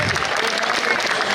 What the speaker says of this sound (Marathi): तर मंडळी जोरदार टाळ्या होऊन जाऊ द्या यांच्यासाठी